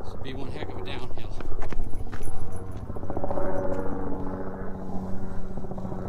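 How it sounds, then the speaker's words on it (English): Helicopter flying overhead above Cathedral Rock in Sedona, a steady rotor thrum that swells and fades in the background while people talk nearby outdoors. "Somebody up in a chopper taking a look at Cathedral from the sky."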